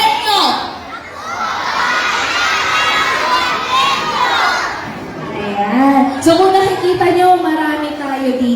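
A large crowd of children shouts and cheers loudly for several seconds, a dense wash of excited voices, with a voice over a loudspeaker rising near the end.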